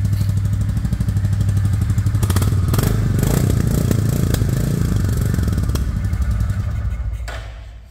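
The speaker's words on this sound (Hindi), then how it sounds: "इसके बाद मैं आपको रेस देके थोड़ा एक्सेलरेट करके भी इसका एग्जॉस्ट साउंड सुना देता हूँ" A new Royal Enfield Bullet 350 Standard in Black Gold is revved up close, its exhaust thumping in a rapid, loud throb that builds and then fades away at the end.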